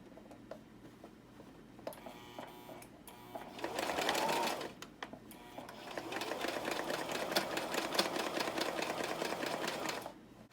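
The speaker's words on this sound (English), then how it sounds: "when I run it through the machine I can see where the stitching is for the sleeve and the shirt to be sewn together" Sewing machine stitching the seam joining a sleeve to a shirt body, a steady rapid mechanical whir in two sustained runs with a short pause between, close and fairly loud with no talking.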